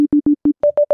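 Plain sine wave tone from the Serum synth, played as short, evenly spaced notes: four pulses at a lower pitch, then three at a higher pitch, clean and steady with no talking.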